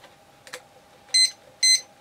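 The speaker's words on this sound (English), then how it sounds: "I have to restart my timer" A timer gives two short, loud electronic beeps about half a second apart, close by in a quiet room, preceded by a faint tap and with no talking.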